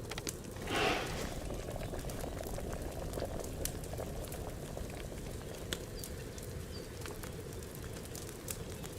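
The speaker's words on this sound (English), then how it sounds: "So we boil for 1 turn." A potion bubbling during alchemy in Kingdom Come: Deliverance, a steady low rolling boil that runs throughout, with a brief brighter splash near the start.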